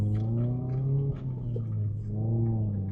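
A Mazda Miata MX-5 ND Club Sport engine hums on a back road, its pitch climbing and falling as it works through gears, steady and close with no talking.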